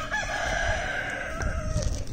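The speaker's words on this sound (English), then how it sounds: "Look at this dumb turkey over here." A farm turkey calls with a drawn-out, warbling tonal cry, close and fairly loud, over a low rumble of background noise.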